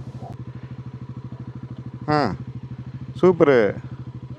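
A motorcycle idling with a steady, close chugging pulse at the start of a long ride, while people talk briefly over the engine.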